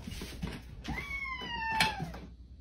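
A pet cat gives a single drawn-out meow indoors, fairly faint, over a low rumbling background with a few knocks.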